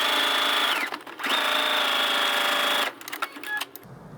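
A sewing machine stitches heavy curtain fabric for a travel trailer, giving a steady, close mechanical whir in two runs separated by a brief pause, then stopping with a few clicks at the end.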